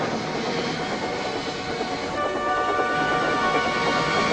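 A steam locomotive in the Trainz game rumbles and clanks along steadily with a dense mechanical roar and faint clickety-clack, loud and close, continuing without a break and with no talk over it.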